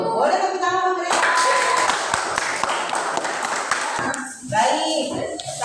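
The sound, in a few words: classroom students clapping hands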